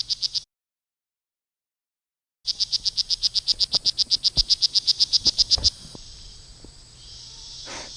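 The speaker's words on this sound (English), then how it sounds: "and frogs." Frogs croak in a Panama rainforest, a fast rhythmic series of sharp, near, fairly loud calls in a steady pulse, after a brief pause, then fading into a softer insect-like trill.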